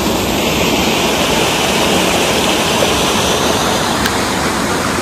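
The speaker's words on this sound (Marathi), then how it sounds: "किती सुंदर आवाज येतो पाण्याचा" Water flowing in the Tansa forest makes a loud, continuous rushing roar close by, steady and unbroken with no voices.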